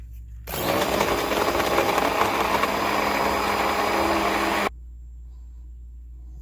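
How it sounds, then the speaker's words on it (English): An immersion blender runs through a chocolate mirror glaze mixture containing melted gelatin, starting abruptly with a loud close motor whine, holding steady for about four seconds, then cutting off to quiet. "And then we're going to use the Immersion blender"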